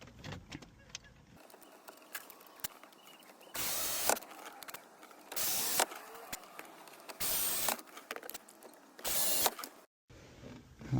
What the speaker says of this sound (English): from this step, we're just gonna put the screws in,